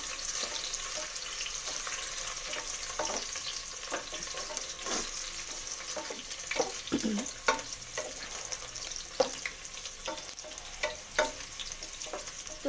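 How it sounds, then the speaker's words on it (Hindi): Finely chopped onion frying and browning in hot oil in a pan for chana dal gosht, a steady soft sizzle broken by irregular stirring scrapes and clicks, with no talk. "अब हम इसमें एक छोटी प्याज को काट लिया हमने, महीन महीन इसको डाल देंगे। और इसे ब्राउन करेंगे।"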